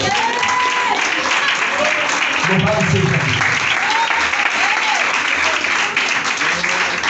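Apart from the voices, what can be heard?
congregation applauding in church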